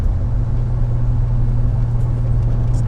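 A Porsche 911 is driven on a test run after a DIY suspension rebuild. Heard from inside, its engine drones loudly and evenly with a deep, constant rumble and no speech.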